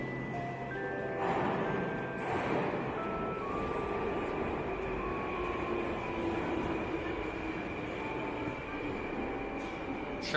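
A train stands at a station in Moscow, its continuous rumble and hiss filling the space while tonal whines and faint squeals glide up and down, with no talking.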